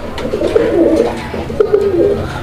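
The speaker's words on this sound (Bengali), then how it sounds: "কবুতর দেখেন আপনারা" Pigeons coo in soft, low, throaty bursts, several overlapping calls close by with no one talking.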